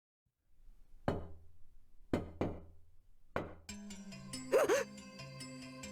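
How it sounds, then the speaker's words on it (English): Four sharp, hollow knocks on a door in the Chaos;Child visual novel, spaced irregularly and ringing out clearly, before a sustained musical tone swells in underneath. "Suddenly there was a knock at the door."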